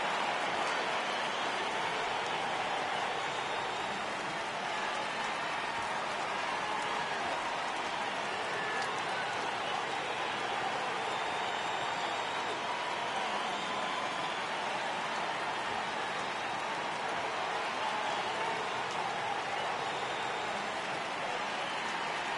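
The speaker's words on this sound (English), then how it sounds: "Crowd gets up for the 3-2." A simulated ballpark crowd in the MLB The Show 18 baseball video game rises and cheers for a full count, a steady broad roar of voices that holds unbroken throughout, with no clear breaks or peaks.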